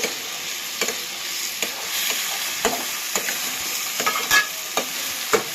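Prawn gravy is sautéed in a pan, giving a loud, close frying crackle with brisk, repeated stirring scrapes and knocks of a spoon against the pan, with no talk.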